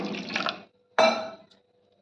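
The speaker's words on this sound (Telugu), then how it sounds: "కొంచెం వాటర్ వేసుకున్నాను." Water splashes into a bowl of maida and curd batter in two short pours, close and brief with quiet pauses between.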